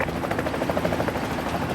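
A Westpac rescue helicopter lands on a coastline, its rotor thudding loud and steady with a pulsing chop that fills the whole stretch.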